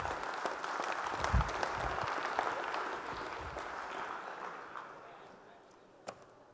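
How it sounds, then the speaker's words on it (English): An audience at a Sunday night Farmers 2019 event claps for a game winner, a dense wash of applause with a few sharper claps that gradually thins and fades, with a lone clap near the end. "Give him a round of applause."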